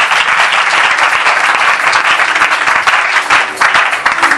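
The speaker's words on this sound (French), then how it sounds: "Est-ce qu'on peut acclamer très fort?" A church congregation bursts into loud, sustained applause and cheering, dense clapping filling the space evenly from start to finish with no pause.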